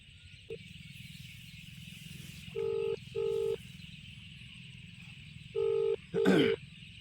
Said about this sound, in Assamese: মই এতিয়াই গোলাঘাট বকিয়ালত থকা দীপক হাজৰিকা নামৰ সেই মানুহজনক ফোন কৰিব বিচাৰিছোঁ